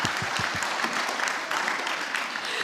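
An audience in a hall claps together at a music showcase event, a full, bright round of applause throughout, with a few murmured voices mixed in at the start.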